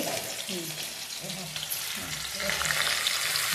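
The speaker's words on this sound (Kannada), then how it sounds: "ಸಾಸಿವೆ ಜೀರಿಗೆ ಹಾಕ್ಯಾರ ನೋಡ್ರಿ. ಉಳ್ಳಾಗಡ್ಡಿ ಹಾಕ್ತೀನಿ ನೋಡಿ." Onion frying in a pan with mustard seeds and cumin gives a dense, crackling sizzle that grows louder toward the end, with a few stirring scrapes.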